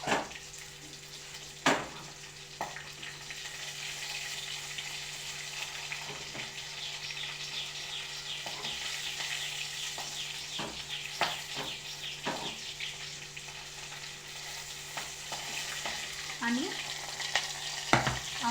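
Salted green chillies sizzling in an oil tempering for buttermilk dhokla, a soft continuous fry with scattered crackles and clinks, a low steady hum underneath, and no talking.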